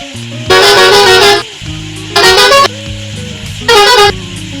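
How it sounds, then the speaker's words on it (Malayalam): Bus air horns in a bus driving game on a trip to Munnar blare loudly three times, each a long sustained blast separated by short pauses, with no voices over them. "നമ്മുടെ ഈ വണ്ടിക്ക് 6 ഹോൺസ് ഉണ്ട്, 6 എയർ ഹോൺസ് ആണ്."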